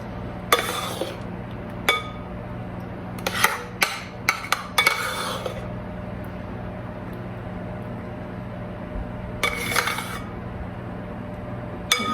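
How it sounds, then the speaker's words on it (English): Ice cream spooned onto the chocolate layer of a drumstick ice cream pie: scattered clinks and scrapes of a metal spoon against a dish, arriving in short bursts with quiet gaps between, no talking. "So we are gonna spoon this into the ice cream, because we don't wanna tear up the chocolate layer."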